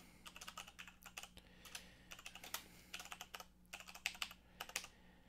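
Computer keyboard keys pressed while deleting text, quick close clicks in irregular bursts with short pauses between them, quiet and alone with no voices.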